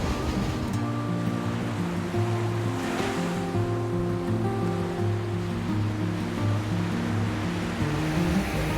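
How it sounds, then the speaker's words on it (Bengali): Ocean surf rolls steadily onto Weligama beach in Sri Lanka, a continuous wash of breaking waves that sits beneath loud background music, with no voices. "আমরা এখন আছি মিরিসার থেকে একটু দূরে বেলিগামা বিচে"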